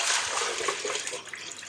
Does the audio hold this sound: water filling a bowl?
yes